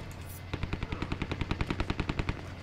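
Rapid automatic gunfire in the shooter game Dirty Bomb, a close, evenly spaced burst of about twenty shots lasting two seconds.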